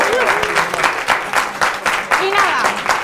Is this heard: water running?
no